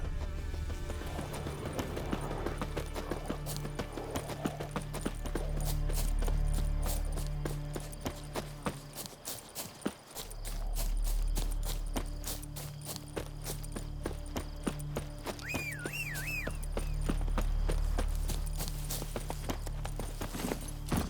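Horse hooves from Roach in The Witcher 3 clip-clop steadily at a walk-to-run pace over a continuous outdoor ambience, with occasional snorts and a brief whinny; no talking.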